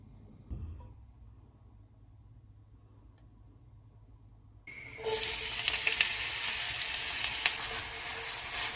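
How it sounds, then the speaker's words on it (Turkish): Quiet kitchen room tone with a small knock, then a sudden loud sizzle as chopped onions and garlic hit hot olive oil in a pot, crackling steadily and close. "Tencereme ısıttım. Ve doğradığım sarımsak ve soğanlarımı ilave ettim."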